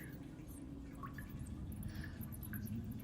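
Dripping water in a cave ambience, several sparse, faint drips falling irregularly over a low, steady rumbling bed, with no voices.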